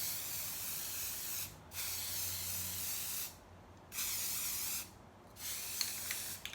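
Spray paint from an aerosol can goes on in light coats: three long, steady hissing bursts separated by short pauses, close and fairly quiet, with a faint click near the end.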